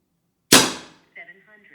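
A single sharp shot from a Leshiy 2 air rifle fitted with a Donny FL shroud kit, firing 44 grain pellets, rings out loud and close in near silence, followed by a short faint electronic beep.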